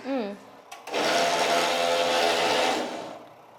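A round cotton wick making machine runs with a loud, steady mechanical whirr for about two seconds, then winds down. A brief voice comes just before it starts.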